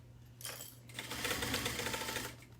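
Domestic sewing machine stitching fabric for a sewn garment, a steady close mechanical whir with rapid needle clatter that speeds up over a couple of seconds under a low electrical hum, no speech.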